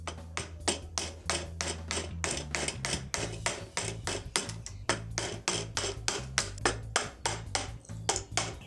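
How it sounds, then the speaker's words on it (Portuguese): Wood chiseling to cut out a ladder step, a steady run of sharp, evenly spaced knocks, likely a mallet striking the chisel, close and regular, with no talking. "Depois do corte, pegar o formão, prestando atenção no sentido do veio para não lascar de vez."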